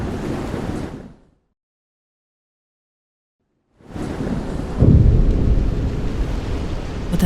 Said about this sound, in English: Suddenly, the two held their ears to a loud boom of thunder.